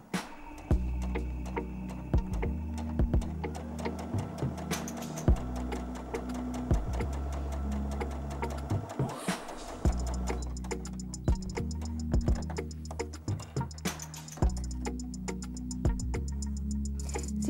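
A sewing machine runs a straight stitch through thin, slippery polyester fabric, giving a steady run of rapid mechanical ticks and clicks with brief pauses, heard close over faint background music.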